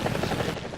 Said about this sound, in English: excited for helicopters to come out to War Thunder